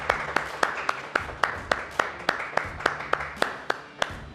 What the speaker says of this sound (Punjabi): ਆਪਣੇ ਵਾਸਤੇ ਥੋੜੀ ਜਿਹੀ ਤਾੜੀਆਂ ਤੇ ਮਾਰ ਲਓ